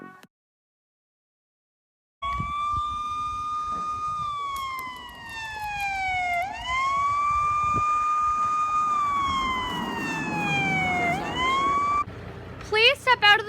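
A police car siren wails during a staged traffic stop, starting after a brief silence and sweeping up and down in long, loud, close cycles, with a short clatter of other sounds at the end.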